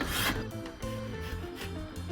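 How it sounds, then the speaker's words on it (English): A steel cabinet scraper rasps along the limb of a bark-on blackthorn longbow, producing close, quiet scraping strokes with a slightly squeaky, resonant edge, and no talking. "remove the tooling marks using a cabinet scraper all the way up and down the length of this Blackthorn bow"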